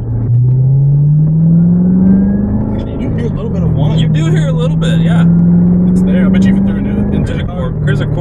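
Manual 2016 Corvette Z06 engine revving while driving, a loud deep roar climbing in pitch, dropping at a gear change, then building again, with speech over the engine noise.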